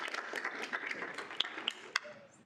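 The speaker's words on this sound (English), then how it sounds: "Let's all give him a massive round of applause" Scattered applause from a student senate meeting, a smallish group clapping in a quiet room with a few sharper individual claps standing out, fairly soft and fading toward the end.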